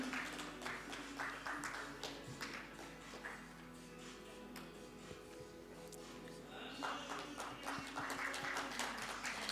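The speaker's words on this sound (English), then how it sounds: "Can we have a round of applause, please?" Quiet audience applause at an architecture forum, scattered hand claps from a small crowd rising and thinning over several seconds, with a brief swell near the end.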